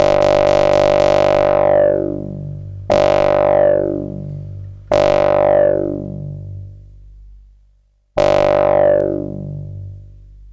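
A ping bass patch on a KORG MS-20 synthesizer plays four separate plucked notes, each a sharp, bright attack followed by a long, ringing decay with a sweeping filter, spaced a few seconds apart.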